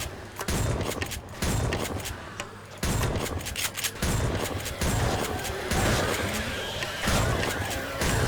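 Repeated shotgun blasts fired at zombies in the game 7 Days to Die, a rapid series of loud bursts at near-regular intervals with short pauses between shots, dense and continuous throughout.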